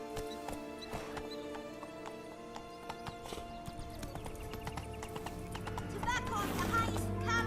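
Geralt's horse Roach trots through The Witcher 3, hooves clip-clopping in a steady rhythm close by under game music, with a brief whinny and talk over it.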